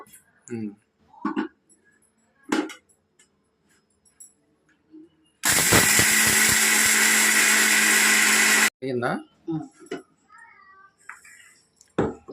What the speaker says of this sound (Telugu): దినుసులు పట్టేస్తాం మిక్సీ మిక్సీ పట్టేస్తాను